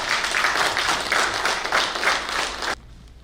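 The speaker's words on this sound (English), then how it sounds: "Please let's give a round of applause for the City of San Antonio." An audience at an international club's biennial convention claps for the City of San Antonio, the applause dense and steady before cutting off abruptly near the end.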